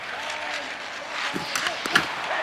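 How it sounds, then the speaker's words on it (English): Hockey arena crowd noise from the NHL 26 video game during a tied period, a steady broad roar of cheering with a few sharper bursts and slaps near the end, running continuously throughout. "In the final moments of this period, you can feel the energy in this crowd"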